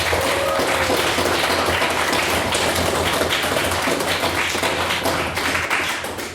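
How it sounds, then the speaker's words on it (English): Applause from a debating society audience after a speech, a dense steady wash of many hands clapping close by that holds for several seconds and fades slightly at the end. "Can I please get another round of applause for a wonderful native speech?"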